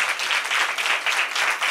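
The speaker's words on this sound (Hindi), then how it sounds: "अगर समझ लिया है तो जोरदार ताली बजाएंगे" A church congregation claps loudly, a dense and continuous burst of applause from many hands.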